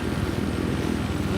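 Rapid, pulsing whump of helicopter rotors in the Battlefield 4 video game, a dense low throbbing that runs steadily through the short moment with a faint rising whine at the end.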